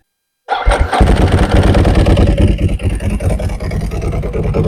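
After a moment of silence, a Ducati 999 motorcycle engine cranks and fires up, then settles into a loud, rough, throbbing idle close by, with a loud exhaust.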